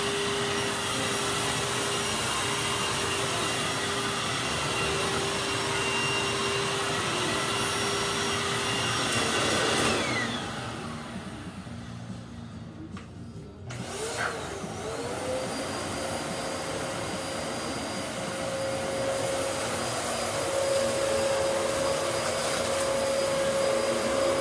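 A vacuum cleaner runs loud and steady during a test, its roar dropping away for a few seconds before surging back to full strength.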